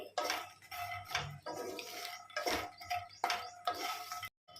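Phool makhana are stirred and tossed in ghee in a pan, producing bursts of rattling, scraping clatter against the metal at an uneven pace. The sound comes up close before stopping abruptly at the end.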